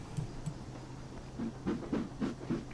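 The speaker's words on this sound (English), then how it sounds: "Black 5, a proper classic British steam engine" An LMS Stanier Class 5 'Black Five' steam locomotive in Train Simulator 2018 chuffs faintly with soft rhythmic exhaust beats over a low hiss and rumble, quiet and steady.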